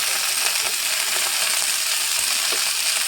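Green chillies frying in tempering oil with spices for a mint-coconut chutney, a steady bright sizzle with a few faint clicks and stirring taps, close and continuous, with no talk.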